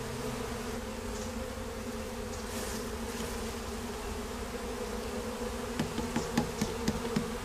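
A dense, steady hum of many honey bees buzzing close by during a November hive removal, with a few faint knocks and taps near the end.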